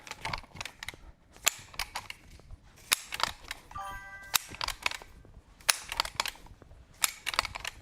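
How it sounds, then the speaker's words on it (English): Dry fire practice with an unloaded shotgun during competition shooting training: a string of sharp mechanical clicks and snaps from the action and trigger, irregularly spaced and fairly close, with brief metallic clatter in between. "This is considered dry firing training."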